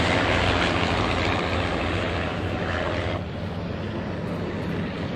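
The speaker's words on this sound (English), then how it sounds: "the first aircraft approach runway 25, and the final flight of 4 peels away to position themselves on downwind" WWI Fokker Dr.I triplanes and D.VII biplanes approach to land, their propeller engines giving a broad, steady drone that is loud and close, then eases slightly as they pass.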